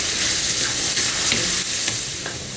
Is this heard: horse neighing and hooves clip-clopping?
no